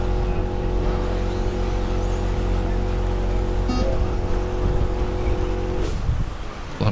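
Schumacher Cougar LD2 electric RC cars racing in an outdoor club championship round, a steady whirring motor and tyre drone from several nearby cars running continuously, with one brief sharper burst near the end.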